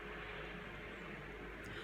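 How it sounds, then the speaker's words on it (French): A steady, fairly faint helicopter drone holds without a break, a broad even roar with no clear approach or fade across the short stretch. "On va laisser passer l'hélicoptère."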